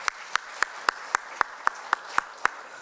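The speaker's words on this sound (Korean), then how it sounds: "우리 하나님께 감사와 영광의 박수를 한번 드리겠습니다" Clapping in a church congregation during a Sunday service comes as about ten evenly spaced, crisp claps in a steady rhythm, moderately loud against a quiet hall.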